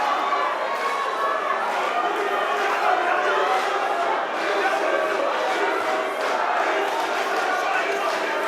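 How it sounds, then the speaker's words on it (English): A boxing arena crowd at an IBF eliminator bout chants in a dense, continuous roar, loud and sustained throughout, with no breaks. "There's a chant in the crowd."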